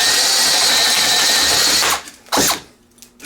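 A Teccpo 12-inch cordless drill with a 4-pole brushed motor bores into old wood in low range. It gives a loud, steady whine for about two seconds, cuts off, then makes one short final burst before falling quiet.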